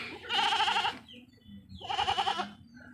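A goat bleats twice, two long wavering calls about a second each, close and loud with a short pause between them.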